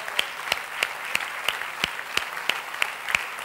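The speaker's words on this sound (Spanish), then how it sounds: "un aplauso para Manolo." An audience at a Valladolid city programme presentation applauds Manolo Sarabia, a soft, even wash of clapping with a few sharper rhythmic claps standing out at regular intervals.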